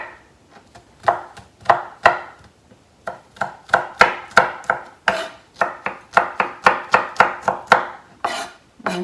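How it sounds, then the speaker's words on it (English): Peeled garlic cloves are rough chopped with a knife on a board while making fermented hot sauce, producing a quick, loud run of close, rhythmic thuds that speeds up into a steady chopping beat. "I'm just gonna rough chop these"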